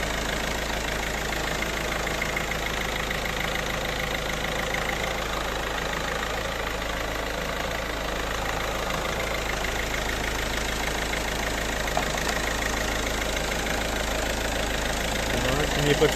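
A Peugeot 308 1.6 HDi diesel idles steadily after a fresh oil change, a continuous mid-low engine drone with faint clatter that holds level for the full length, with no voices over it.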